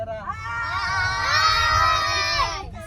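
A crowd of children shouts and squeals together at a party, forming a sustained, loud, high-pitched chorus of overlapping voices that swells and then cuts off after about two and a half seconds.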